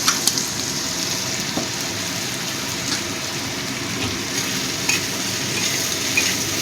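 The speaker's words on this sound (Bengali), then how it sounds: "ভালো করে মিশিয়ে দিচ্ছি।" Fish curry with turmeric powder being stirred in a pan, a steady soft sizzle with scraping spoon strokes running throughout, close and moderately loud, with no talking.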